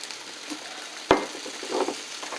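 Steak sizzles on a George Foreman grill coated with cooking spray and a light sprinkle of salt: a steady, soft crackle throughout, broken by one sharp clatter midway.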